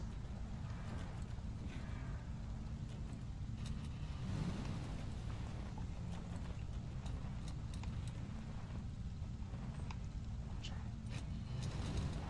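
Crawler Scout truck in SnowRunner creeping downhill in low gear, a steady low engine drone with rumbling, clunking suspension and terrain noise throughout, fairly close and continuous.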